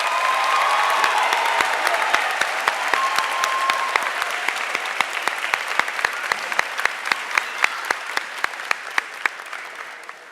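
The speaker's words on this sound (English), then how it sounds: "Please give them a round of applause." An audience at a high school senior awards ceremony claps steadily for several seconds, dense applause with a few sharper individual claps standing out, fading slightly toward the end.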